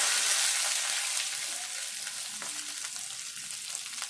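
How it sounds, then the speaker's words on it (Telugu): Pounded black pepper, coriander, fenugreek and cumin frying in a hot tempering of oil, a continuous close sizzle that is loudest at first and eases slightly as it settles, with small crackles. "కొద్దిసేపు అయితే ఫ్రై చేసుకోవాలి"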